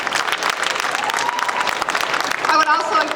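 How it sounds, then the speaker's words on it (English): A round of applause for supporters at a literacy book unveiling with a Milwaukee Brewers player, dense crowd clapping with voices mixed in and a brief whistle-like tone near the end. "let's give them a round of applause for their great support."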